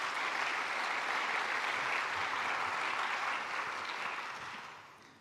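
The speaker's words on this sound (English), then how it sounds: "could you thank our panel? Round of applause" A seated audience applauds a panel at a talk, a broad continuous wash of clapping holding steady before tapering off toward the end.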